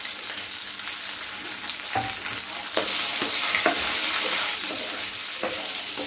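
Tomato and a piece of tamarind sautéing in a pan for a chutney, a continuous close sizzle broken by several sharp spoon-on-pan stirring clicks, with no voices.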